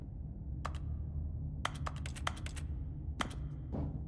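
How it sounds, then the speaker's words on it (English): Keyboard typing from The Stanley Parable video game: short bursts of crisp, rapid key clicks, a couple of isolated taps then quick runs of several keystrokes, fairly close over a steady low background hum, with no talking. "And it still makes keyboard sounds."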